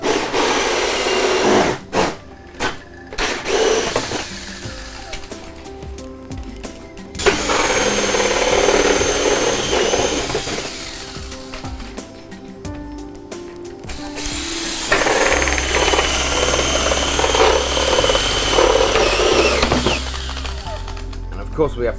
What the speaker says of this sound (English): Just using a 44mm hole saw or a 1 3/4, and every drill hole that I mark, drill a hole.